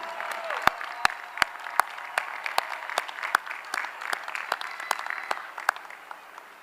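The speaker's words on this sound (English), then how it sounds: "Graduates, please turn around to recognize and applaud these dear friends and family members" Graduates at a commencement ceremony clap for their families, a broad wash of applause from a large crowd, punctuated by sharp, close hand claps that stay steady throughout.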